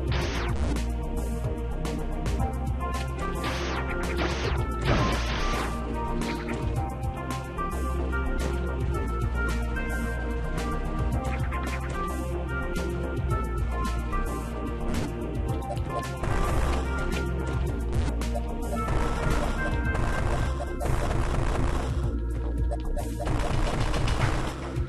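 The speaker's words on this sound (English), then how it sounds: "I'm throwing bombs everywhere to test for secrets." Dense, continuous barrage of video-game bomb blasts from a Metroid game, rapid crashing explosions layered over busy music and effects, loud and unbroken throughout.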